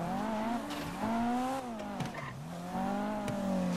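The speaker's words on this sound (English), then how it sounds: "Ooh, that drift." A video game car drifting, its engine droning and bending in pitch as the tires squeal through the slide, loud and continuous for a few seconds.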